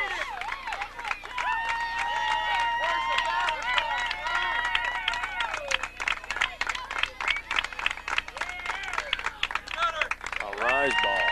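A crowd at a 1991 college softball game between Creighton and Utah cheers and whistles loudly and continuously, with scattered claps and shouts, and a voice speaks briefly near the end.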